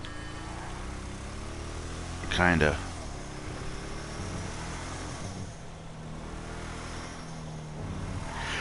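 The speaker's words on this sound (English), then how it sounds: "Oh, a Vamos. Vamos. Actually sounds not bad. Muscle car, nice. Throaty." A Vamos muscle car in GTA Online gives a short throaty rev, a brief loud swell over a steady engine drone, while someone talks quietly.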